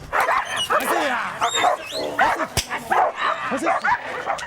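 Police dogs bark, yip and whine excitedly in bursts during bite-and-pursuit training as a trainer playing a suspect teases them, with voices talking over the busy, loud barking.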